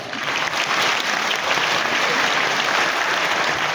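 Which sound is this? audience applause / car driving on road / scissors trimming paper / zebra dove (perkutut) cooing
audience applause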